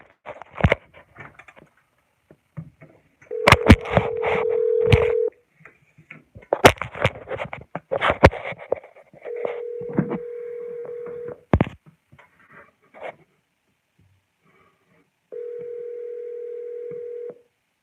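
A telephone call is placed on a line, with short bursts of dialing tones and a repeating steady ringback tone among clicks and handling noises, close and fairly quiet.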